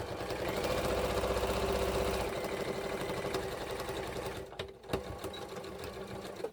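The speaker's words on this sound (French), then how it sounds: "Sinon, ça sera ennuyeux de le coudre." Sewing machine stitching a shoulder bag made from old denim jeans, running in a loud steady whir for a couple of seconds, then continuing more softly with brief stops and clicks as the stitching pauses.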